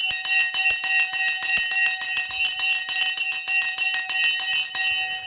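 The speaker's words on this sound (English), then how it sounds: "The bell has gone." Stock market opening bell ringing, a loud rapid metallic ringing sustained continuously for several seconds with a fast steady trill, close and without speech.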